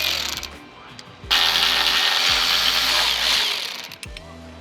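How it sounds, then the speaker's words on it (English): A ratchet with a 10mm socket works bracket screws loose on a 2.0L Honda Civic, giving a close, loud run of rapid clicking with brief pauses between bursts. "we're gonna remove those 3 using a 10mm socket"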